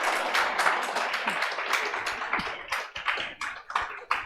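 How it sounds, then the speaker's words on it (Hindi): Students clap in a lecture room, a burst of quick individual claps that thins out toward the end into a few scattered, separate claps. "तालियां बजनी चाहिए"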